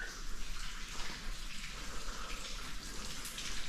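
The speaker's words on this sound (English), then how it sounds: "It literally sounds like a waterfall inside this building." Water gushing steadily somewhere inside a building with a flooded floor, a continuous broadband rush like a small indoor waterfall, moderately loud and unbroken with no voices.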